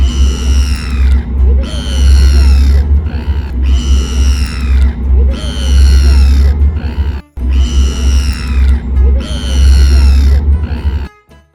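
Seagulls near the sea in Auckland, New Zealand, flock to people feeding them. Loud, close, harsh calls come in repeated bursts, one after another, over steady outdoor background noise.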